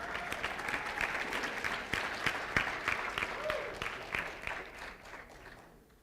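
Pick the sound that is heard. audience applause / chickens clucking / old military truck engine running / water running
audience applause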